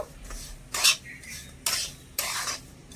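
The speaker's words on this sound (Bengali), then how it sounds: "সুজিটাও নেড়ে ছেড়ে একসাথে ভালো করে মিশে একটু ভাজা ভাজা করে নেব" Semolina being stirred with vegetables in a dry pan, several scraping strokes of a spoon against the metal in uneven bursts, close and fairly clear with quiet gaps between them.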